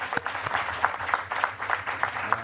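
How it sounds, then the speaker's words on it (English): Light audience clapping at a school district board meeting, a modest, fairly distant patter of hands with a loose, uneven rhythm for a couple of seconds. "yep, clap for Jawan."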